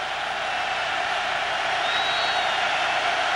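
A packed stadium crowd roars steadily at a 2003 Michigan vs Oregon college football game, a dense, loud, continuous wash of cheering with a faint whistle-like tone rising partway through.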